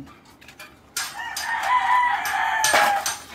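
Chickens at a coop, with a rooster crowing loudly and close by, drawn out over about two seconds, followed by a second crow and faint clucking in the background.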